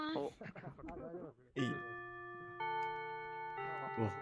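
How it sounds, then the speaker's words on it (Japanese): After a person speaks briefly, a bright, school-like electronic chime rings out in a slow sequence of sustained, stepped tones, loud and clear, at the start of a lecture. "あ、チャイム鳴らしてもらいます"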